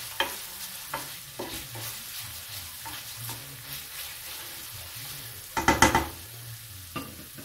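Chicken sautéing in a pan, a soft steady sizzle with scattered utensil scrapes and taps, and a short burst of louder clatter near the end.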